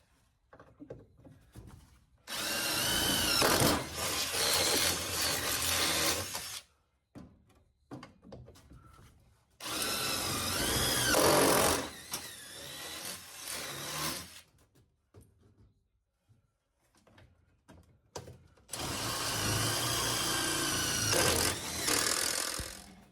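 A power drill bores out spot welds on the body of a 1972 VW Super Beetle, three loud whining bursts of several seconds each, separated by quiet pauses.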